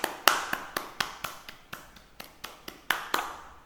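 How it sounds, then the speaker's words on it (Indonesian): Classroom of primary school students clapping hands together in a series of sharp, separate claps at an uneven rhythm, fairly close and alone without talk. "beri tepuk tangan sekali lagi"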